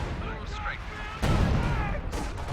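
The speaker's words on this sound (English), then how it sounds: "Another high explosive barrage on this MG34." A high explosive artillery barrage in Company of Heroes 2 lands on an MG34 position, a heavy booming impact rumbling under continuous game noise and a talking voice.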